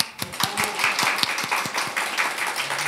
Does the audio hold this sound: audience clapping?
yes